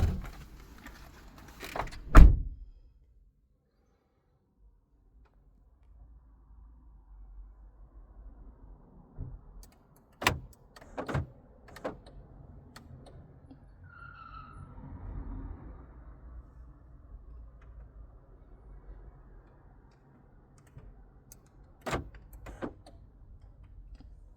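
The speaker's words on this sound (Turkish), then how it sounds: "Şimdi uzaklaşalım, kitlesin, yakınlaşalım, açsın." A Honda Civic's keyless entry locks and unlocks its doors: a few sharp mechanical clicks spaced well apart, with near silence between and faint low background noise.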